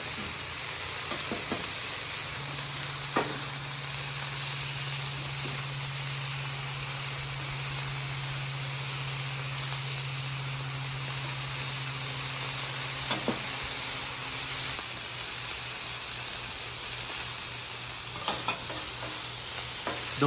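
Beef sizzles steadily on a flat griddle as a sustained, fairly loud frying hiss, with occasional scrapes and taps of a spatula and a low hum underneath.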